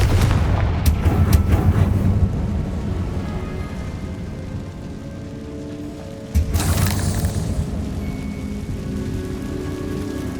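Confringo blasting-curse explosions in the game Hogwarts Legacy: heavy, rumbling booms with crackling debris, one burst fading out and a second strong blast hitting partway through, loud and close.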